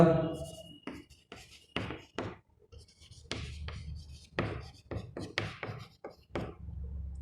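Pen writing by hand during a class 8 Sanskrit lesson, a run of short scratchy strokes and taps in an uneven rhythm, close and clear, with a voice speaking in places.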